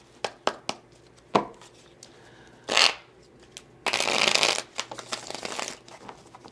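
Tarot cards being shuffled and handled, with quick crisp snaps and taps followed by a longer riffling burst, close and fairly quiet.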